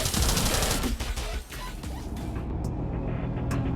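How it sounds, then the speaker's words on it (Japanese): A full gunfire salvo erupts in the video game Star Seed: a dense, loud barrage of overlapping shots and booms that keeps rumbling without pause to the end. "前段発射"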